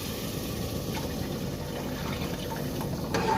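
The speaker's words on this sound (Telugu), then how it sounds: "మసాలాలు మగ్గాక చింతపండు వాటర్ వేసుకుందాం" Tamarind water poured into a pan of cooked spices and oil for a spicy fish curry, a steady, soft liquid rush close by with a faint splash near the end, no talking.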